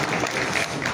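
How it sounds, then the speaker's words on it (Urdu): An audience at a political budget meeting applauds, a dense, steady wash of many hands clapping at once, fairly loud for about a second. "ان کے لیے بھی تالیاں بجائیں"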